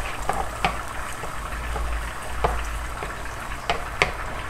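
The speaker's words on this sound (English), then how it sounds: "Next, now you're going with the chopped onions." Chopped onions go into a simmering pot of Jamaican tinned-mackerel rundown with coconut milk, giving a low steady bubbling with several sharp clicks and taps scattered through, at moderate volume and without speech.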